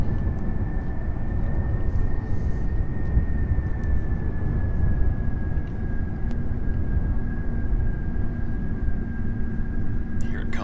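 An aircraft in a video game flown by kOS auto-lands on a runway, its engine giving a steady, continuous droning rumble with a faint high tone, with no speech.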